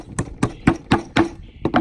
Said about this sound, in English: hammer those down